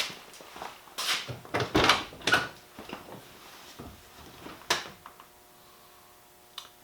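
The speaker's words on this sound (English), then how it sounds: "I'll open the door and step in" Car door on a G-body Oldsmobile Cutlass built for time attack opens with clunks and rustles as the driver climbs in, a few knocks and shuffles spread over several seconds, close and moderately loud.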